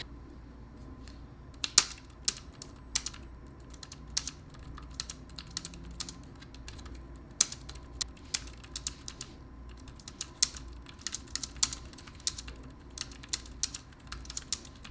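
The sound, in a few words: typing on compact wireless keyboard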